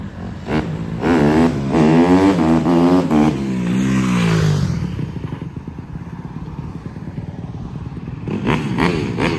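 A 2016 Honda CRF150R dirt bike engine cranks, catches and revs up and down loudly nearby, then drops to a rough idle before revving again briefly.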